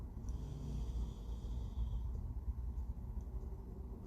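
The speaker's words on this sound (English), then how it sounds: "Breathing in through the nose." A slow, steady inhale through the nose during a breathing exercise, a low airy rush with a soft rumbling texture, close and continuous with no speech.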